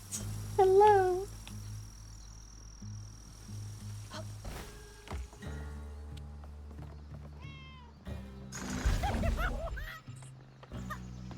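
Several cat meows in the video game South of Midnight: a loud, clear meow at the start, then softer, drawn-out cries later over a steady bed of game music.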